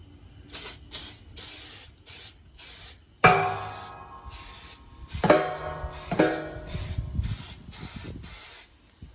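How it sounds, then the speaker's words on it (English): Repeated short bursts of aerosol avocado oil spray hiss in a quick, uneven rhythm inside a new smoker, with metallic clanks and ringing knocks from its hollow metal chamber between them. "Going to be spraying down the inside with some avocado oil."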